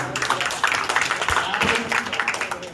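Audience clapping loudly together at the close of a street-play (nukkad natak) performance, a dense steady burst of applause with some voices mixed in.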